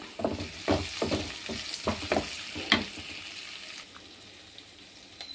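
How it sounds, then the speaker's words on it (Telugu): Onions, green chillies, curry leaves and tempering spices fry in oil with a close sizzle broken by repeated scraping stirs and clinks, the stirring stopping and leaving a softer hiss at the end. "ఇక్కడ ఆల్రెడీ ఫ్రై అవుతున్నాయి. ఉల్లిపాయలు, పచ్చిమిర్చి, కరివేపాకు, పోపు దినుసులు"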